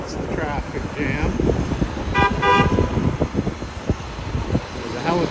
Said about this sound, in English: There you go, that's the traffic jam.